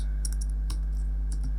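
Sparse key clicks on a Mac computer keyboard sound faintly while terminal commands are entered, set over a steady low electrical hum in a quiet room.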